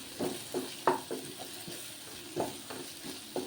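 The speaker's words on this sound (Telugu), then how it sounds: "పచ్చి వాసన పోయేంత వరకు మంచిగా నూనెలు వేపుకోవాలండి" Masala for boti curry fries in hot oil while being stirred, with repeated scraping and sizzling strokes in an irregular rhythm, faint and close, with no voices.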